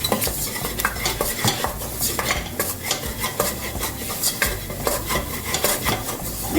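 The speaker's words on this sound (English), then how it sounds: "Once you mix up the butter and the flour together" Flour is whisked into melted butter in a pot for a roux, with a rhythmic, rapid scraping and clinking of the whisk against the pan and a light sizzle beneath, close and continuous with no talking.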